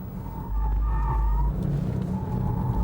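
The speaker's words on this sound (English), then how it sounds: "Now the turbo boost accelerates." A Porsche 911 Turbo at Laguna Seca, engine droning low and rising as it accelerates, with a thin tyre squeal of a slide threading through, close and steady, without speech.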